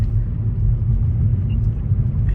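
A steady low engine rumble drones throughout, close and constant, like a vehicle idling or driving nearby, with no voices.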